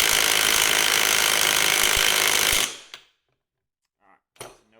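Milwaukee M12 impact driver with a 2 amp-hour battery hammering on a bolt during a torque test, a loud dense rattling burst lasting a few seconds that stops abruptly, followed by near silence and a couple of faint clicks.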